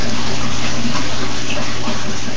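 Water drains steadily out of a bell siphon through a 1-inch cap on the breather tube, giving a loud, continuous rushing gush that fills the whole stretch without pause.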